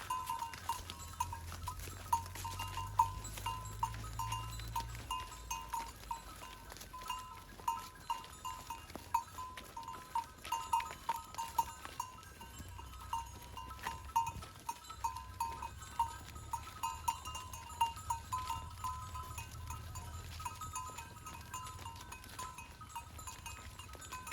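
Goats graze in a Nepali jungle, with faint, scattered livestock sounds and small clicks spread across a quiet outdoor background, all distant and low in level, with no one talking.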